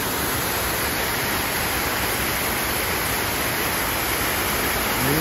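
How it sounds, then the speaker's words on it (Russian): The Rhine Falls in Switzerland, a wide waterfall on the Rhine, roars as a loud, dense, unbroken wash of rushing water heard close by, steady throughout with no talking. "И водопад."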